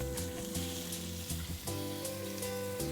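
Marinated pumpkin fries in a little oil, a steady soft sizzle with faint crackles throughout, alongside a low background hum.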